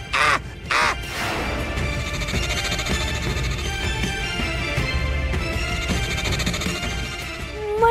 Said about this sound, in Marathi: कावळा किती ओरडते हो.